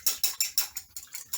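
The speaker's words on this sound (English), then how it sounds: "I'm going to whisk my egg" A whisk beats an egg in a bowl for a broccoli and cheese omelette, a quick run of sharp, regular clicking taps, close and clear, about eight strokes.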